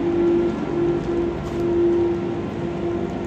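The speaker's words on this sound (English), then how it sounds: "I got the Docklands train to myself." A Docklands Light Railway train runs with a steady rumbling drone and a sustained tonal motor whine that fades in and out, heard from on board at moderate loudness with no talk.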